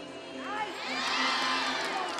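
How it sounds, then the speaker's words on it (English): Spectators in the stands at a college gymnastics meet in Denver cheer and shout steadily for a local Colorado gymnast, a broad crowd roar swelling toward the middle with excited higher voices mixed in. "Lots of folks cheering for her here in the stands."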